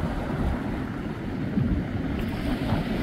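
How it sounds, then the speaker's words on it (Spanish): Steady wind buffets the microphone with a low, rumbling roar, mixed with a broad rushing wash that continues without pause. "Que se escucha también el ruido del aire."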